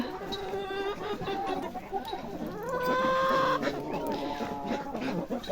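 Hens and young roosters cluck and squawk on a village farm, several birds close by with overlapping drawn-out calls and short clucks, under faint background noise.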